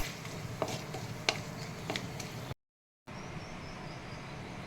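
Rice stirred and fried in ghee with cardamom, cloves, cinnamon and a bay leaf makes scattered scraping clicks over a constant crackling sizzle, with a short moment of silence partway through.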